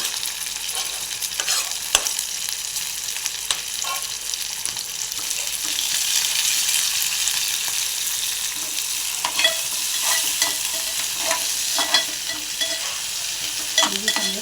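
Tomato, green chilli and curry leaves fry in hot oil for kanda poha, a steady loud sizzle with occasional stirring clicks, continuous and close with no talking.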